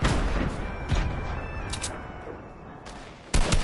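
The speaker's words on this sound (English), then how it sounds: "I'm going to throw some bombs about there" Grenade blasts in the video game Fortnite: a few sharp explosive bursts spread across a busy game soundscape, with a loud final boom near the end.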